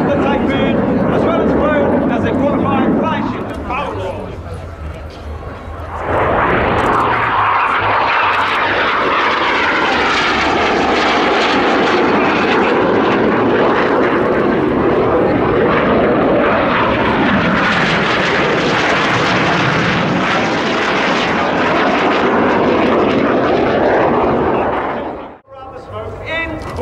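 A jet aircraft performs an air show display at RIAT 2024, a loud continuous engine roar swelling in after a few seconds and holding steady before abruptly cutting off near the end, with a commentator talking throughout.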